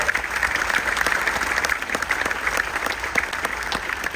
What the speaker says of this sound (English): Give a round of applause for those wonderful people as well.